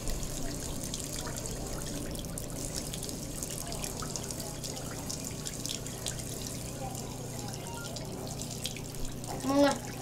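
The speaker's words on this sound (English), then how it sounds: "they all start with putting some water in the pot" Water runs from a tap into a pot in the VR game Job Simulator, a soft steady splashing trickle throughout, with a brief louder clunk near the end.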